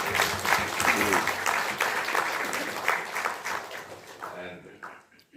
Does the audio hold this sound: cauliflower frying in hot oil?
no